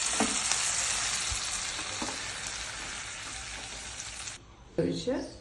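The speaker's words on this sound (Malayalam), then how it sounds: "വാടുമ്പോൾ നമുക്ക് ഈ കാഷ്യൂനട്ടും ഈ ബദാം പരിപ്പ് ഇടാം" Cashew nuts and almonds fry in a pan with a dense, close sizzle and crackle as they are stirred, then the sizzle cuts off and a brief, lighter burst of frying and clatter follows.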